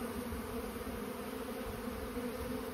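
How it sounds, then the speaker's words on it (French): Honeybees buzzing steadily around a disturbed hive, a dense continuous drone close by with no voices. "je suis en train de gêner la ruche qui est derrière moi"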